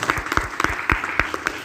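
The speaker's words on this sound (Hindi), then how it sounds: "इनके लिए जोरदार ताली बजना चाहिए।" An audience at a business meeting gives a short round of applause, distinct individual claps landing in an uneven rhythm, fairly close and moderately loud, with no talking over them.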